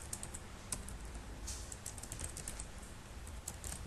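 Rapid clicking of a computer keyboard as code is typed, a steady close stream of light keystrokes with a few sharper taps, continuous for a few seconds with no talking.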